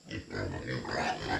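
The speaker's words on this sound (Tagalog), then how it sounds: "Yung inahin natin baboy, oh." A sow grunting up close, a steady run of low snorts and grunts throughout.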